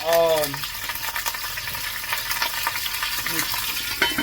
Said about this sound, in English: I got some olive oil heating in this pot